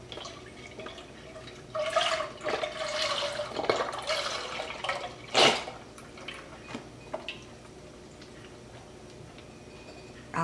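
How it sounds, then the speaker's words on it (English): Beef broth pours from a 32-ounce container into a pot on a burner, a close liquid splashing and gurgling over several seconds with a few drips and ticks, then quieter kitchen background. "one 32-ounce container of beef broth. I'll place it in my pot."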